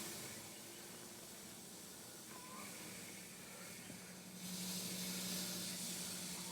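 A La Pavoni Europiccola espresso machine vents its steam pressure in a steady, faint hiss that swells a little louder near the end, with no voices over it.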